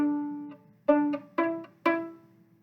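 Plucked string notes in a first-year strings lesson, measures 5 and 6 of a beginner piece: four clear pizzicato plucks, each sharp at the start and decaying, spaced evenly with no talking.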